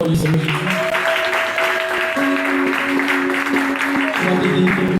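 A church congregation claps and cheers in praise of Jesus, a dense continuous wash of applause with voices mixed in and sustained tones underneath, steady and loud throughout.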